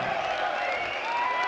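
A German darts crowd at the German Darts Masters applauds a won leg, with a brief, dense wash of clapping and cheering that blends with a commentator's voice.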